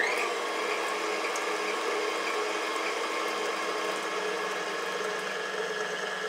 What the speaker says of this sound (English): now we're going to mix them until these are light and slightly fluffy, about 2-3 minutes